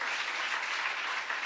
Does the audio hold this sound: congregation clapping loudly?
yes